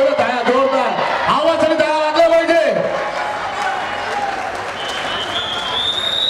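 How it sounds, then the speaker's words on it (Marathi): A crowd claps and cheers at a village sports match, broad applause running throughout while an announcer speaks loudly over a public address system. "जोरदार आवाज आणि टाळ्या वाजल्या पाहिजे."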